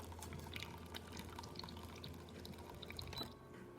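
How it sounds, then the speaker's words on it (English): Hot water running from a DeLonghi espresso machine, a steady close trickling pour with small splashy drips over a low machine hum. "having a good water flow coming out of the machine"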